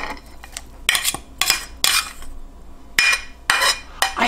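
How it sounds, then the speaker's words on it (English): Metal utensils clink and scrape against a crock pot as cooked chicken is put back into the fajita mixture, a series of close, sharp, irregular clatters with no talk. "put your chicken back in."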